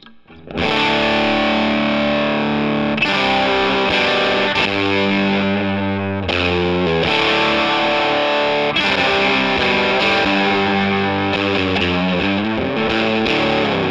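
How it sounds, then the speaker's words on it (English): Electric guitar played through a Vemuram fuzz pedal, a fat, nasty, sustaining distorted tone with ringing chords and held notes that run continuously and loudly for the whole stretch, with no talking. "It cleans up well, sounds fat and nasty, and yet you get that sustain from a fuzz pedal."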